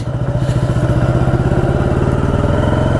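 A 1985 Yamaha Virago motorcycle engine pulses with a steady, rapid low thumping while riding, loud and close, holding an even rhythm throughout with no voice over it.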